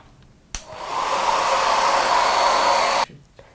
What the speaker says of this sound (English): I've got to dry it again with the hairdryer before I move on to the next bit.